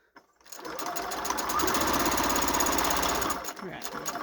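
A sewing machine runs steadily while stitching gift card holders, its rapid needle chatter and motor hum starting after a brief pause and holding for about three seconds before easing off, close and fairly loud.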